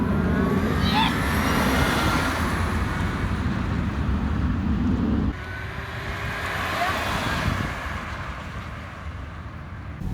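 A DIY 300-volt electric Mercedes B-Class is driven in second gear, heard from inside as a steady rumble of road and wind noise, with a faint rising motor whine and an abrupt drop in level partway through.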